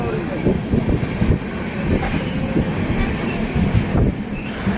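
Inside a moving train carriage on the way to Amarnath, a steady low rumble carries rhythmic clickety-clack wheel beats on the rails, loud and continuous.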